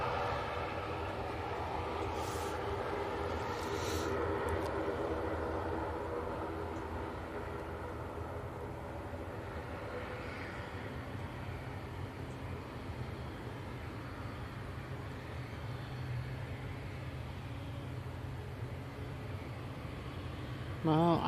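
Airliner jet engines spool up for departure at Manchester Airport, a distant, continuous low roar with a faint rising tone, heard under light background talk and a few brief clicks.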